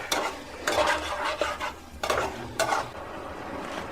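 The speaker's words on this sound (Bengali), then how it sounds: "বাহ, দেখুন কাকে বলে মাংস কষা" Chicken pieces being stir-fried for kosha in a pan: repeated scraping strokes of a spatula against the metal over a light sizzle, close and fairly loud, with no talking.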